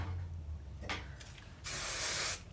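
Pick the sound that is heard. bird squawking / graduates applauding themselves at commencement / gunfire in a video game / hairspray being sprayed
hairspray being sprayed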